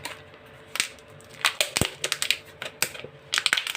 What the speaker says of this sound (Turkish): İlk olarak bardaktan çıkartıyorum.